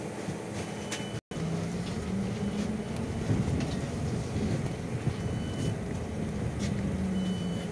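Inside a Kyiv Bogdan T901 trolleybus, a steady low electric-motor hum and rolling rumble fill the cabin, with faint high whines and occasional rattles throughout.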